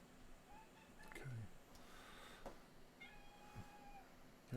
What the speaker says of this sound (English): Cat's making sad noises.